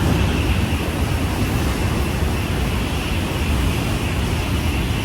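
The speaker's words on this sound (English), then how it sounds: "That is a bullet train, and that's what we're going to be riding." A loud, steady roaring rush of a Japanese bullet train passing close by at high speed, a continuous broadband wash of noise with wind-like buffeting throughout.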